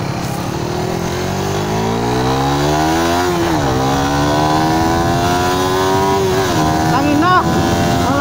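A Raider 150 Fi motorcycle engine revs hard during a tire burnout, pitch climbing and dropping in repeated surges, loud and close, with a voice speaking over it.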